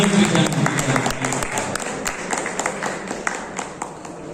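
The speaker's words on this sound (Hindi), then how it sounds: "तो एक बार दोस्तों जोरदार तालियों से स्वागत कीजिए सुबह से कृष्णा।" An audience at a youth folk dance program on millets gives loud, continuous applause to welcome a participant. Dense clapping fills the whole stretch, easing only slightly toward the end.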